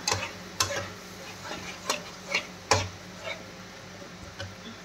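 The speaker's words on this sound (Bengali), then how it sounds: "এটা আমি এখন 5 মিনিট ভাজবো।" Pieces of chicken fry in a pan for chicken chap, a soft sizzle under a spatula that scrapes and taps the pan in a loose, repeating rhythm.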